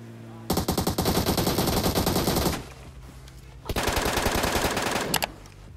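Automatic gunfire in PUBG Mobile rattles out in two long, loud bursts of rapid shots separated by a short lull, close and dominant.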